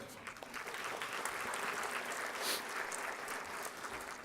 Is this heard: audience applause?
yes